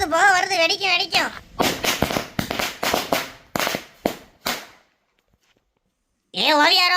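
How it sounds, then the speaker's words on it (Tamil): A Diwali string of firecrackers goes off in a quick, uneven series of sharp, loud cracks over several seconds, then falls silent, with a voice talking just before and after. "இந்த சரவெடியை நான் வச்சு படன்னு வெடிக்க போகிறேன்"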